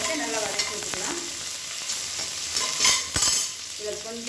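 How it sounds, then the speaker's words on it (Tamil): Shallots sizzle steadily in hot ghee while a spoon scrapes and stirs the pan, a soft crackling hiss with occasional louder clatters. "சின்ன வெங்காயத்தை நல்லா வதக்கி வச்சுக்கலாம்."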